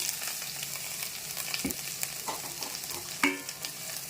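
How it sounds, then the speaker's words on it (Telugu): Peeled, washed, finely cut ridge gourd pieces fry in a pan with green chillies, a continuous close sizzle with occasional spatula scrapes and a sharper clatter near the end, no talking. "ఇప్పుడు మనము పొట్టు తీసి కడిగి చిన్నగా కట్ చేసుకున్న బీరకాయ ముక్కలు వేసేద్దాము."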